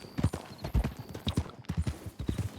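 Hooves of a player's horse clip-clopping in Red Dead Redemption 2, a steady trotting rhythm of close, distinct hoof strikes with a brief snort, fairly quiet with no talk over it.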